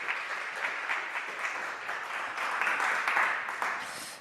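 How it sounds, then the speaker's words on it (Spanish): Audience applause at a business-school talk on AI, a sustained, fairly soft wash of many hands that swells slightly toward the end before tapering off. "Un aplauso, por favor."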